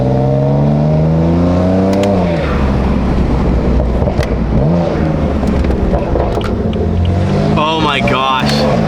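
A BMW M4 rolls around a neighbourhood block, its engine droning and rising through a few revs with road noise, while people talk over it inside the car.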